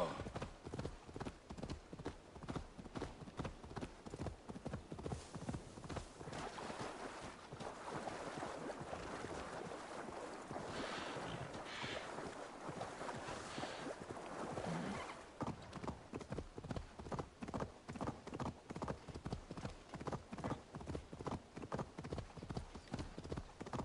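Horse hooves clip-clop steadily in Assassin's Creed Valhalla, a fast regular trot of close, loud strikes that keeps going throughout with a brief splashy, softer patch midway.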